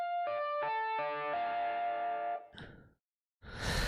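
Effects-laden electric guitar track playing back in the Cakewalk DAW: a few distorted, chorused notes with a sustained ringing tone that cut off abruptly, followed by brief noisy bursts and a short gap.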